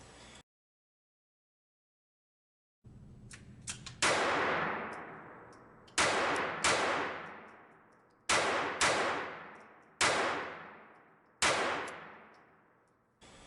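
Shots from an Armi Galesi 503-B .22 Long pistol at an indoor range: around eight sharp, loud reports, some fired in quick pairs, each leaving a short ringing decay, with a quiet gap before the first.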